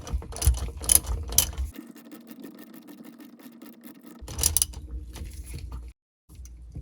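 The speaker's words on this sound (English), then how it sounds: "Again, loosen it up just to break that Loctite free." A ratchet works a Loctite-secured bolt loose on a Sea-Doo GTX 951DI engine. Two short bursts of close mechanical clicking stand out against a quiet background hum, with no talking.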